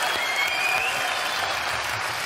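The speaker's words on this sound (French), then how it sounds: "On applaudit Noé, s'il vous plaît." An audience at a live stand-up comedy show applauds, a dense, steady burst of many hands clapping that fills the room and holds at a constant level throughout.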